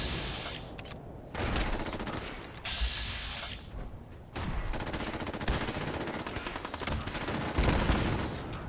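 Bursts of gunfire from the video game Fallout 4, loud, close and rapid, in several volleys with brief gaps between them and no talking.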